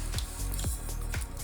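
Marinara sauce poured into a Ninja Combi cooking pan, a few soft, close plopping and dripping sounds spaced roughly half a second apart, with no talk.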